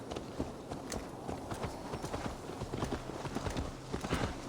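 Horse hooves clip-clopping on the ground in the Assassin's Creed Valhalla video game, a steady run of close, even hoofbeats over a constant low background bed.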